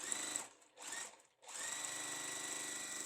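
A sewing machine stitching a seam in light quilting fabric for a patchwork block runs in steady close bursts, pausing briefly twice before carrying on, with no talking.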